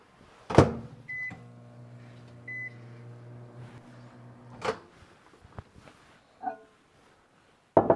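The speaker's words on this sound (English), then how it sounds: "we're going to melt that in the microwave." A microwave oven melts candy: a door clunk and button beeps, then a steady low hum runs for a few seconds. It ends with another beep and clunks as the door opens.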